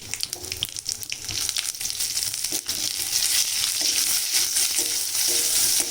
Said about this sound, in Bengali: তেল বসিয়ে দিয়েছি তেলটা গরমও হয়ে গেছে দেব শুকলঙ্কা আর তেজপাতা জিরে